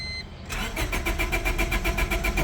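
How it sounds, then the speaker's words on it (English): A car engine, a Honda Civic EK hatchback, cranks after a brief click, a loud rhythmic starter churn with evenly spaced pulses that keeps turning without catching. "See if this car wants to turn on now."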